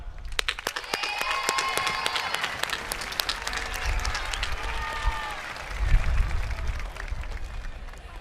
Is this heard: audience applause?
yes